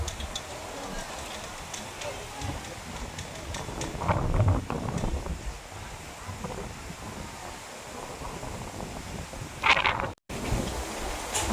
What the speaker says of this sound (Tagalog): At sobrang lakas ng hangin.